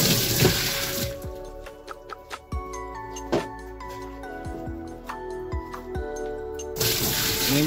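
Water poured into a washing machine during a drain repair, a splashing rush at the start and again at the end, with ringing metallic tones and knocks in between.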